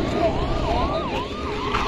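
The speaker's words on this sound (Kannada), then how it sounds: "ಅಣ್ಣ ಹೋಗಿಬಿಟ್ಟ ಆಂಬುಲೆನ್ಸ್" An ambulance siren wails in repeated rising and falling sweeps as it passes along a road near a village in hilly country, fairly loud and steady over low traffic rumble, with no talking.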